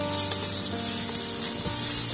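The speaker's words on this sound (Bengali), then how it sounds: "আলুগুলোকে দিয়ে দিলাম, একটু নেড়ে দিই।" Boiled potatoes being stirred in a miniature toy cooking pot give light scraping and clinking over a faint sizzle, with a steady background hum throughout.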